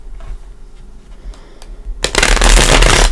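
A deck of Gilded Tarot cards shuffled up close: quiet handling and small taps, then a loud, dense riffling burst that runs to the end.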